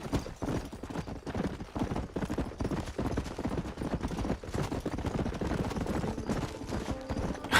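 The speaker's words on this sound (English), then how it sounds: "that's just your regular run-of-the-mill undead horse" Hooves of an undead horse clip-clopping in the Red Dead Redemption: Undead Nightmare video game, a steady galloping rhythm of close thuds with faint game ambience behind and no talk.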